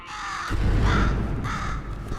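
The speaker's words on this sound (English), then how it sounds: "Could you, murder this bird for me?" A bird caws in the video game Portal 2, giving harsh, loud calls over a dense, noisy background rumble.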